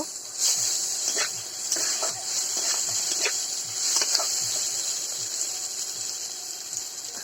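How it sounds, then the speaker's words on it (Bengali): Fish curry of pangas being stirred in a pan with ginger-garlic paste, giving a steady bright sizzle with repeated soft scraping strokes of a spoon throughout, close and fairly loud, with no talking. "দিয়ে দেবো আদা রসুন বাটা। কিছুক্ষণ আবার নেড়ে চেড়ে নেব।"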